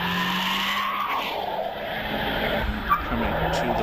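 Honda Civic Type R, a 2-litre saloon, on a hillclimb run at Prescott, its engine a steady mid-distance drone with a brief tyre squeal, commentary running over it.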